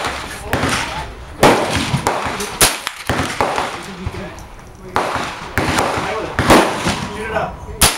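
Sharp outdoor reports from a Ruger 10/22 rifle firing .22lr rounds, a string of loud cracks at irregular intervals with brief echoes, voices talking between shots.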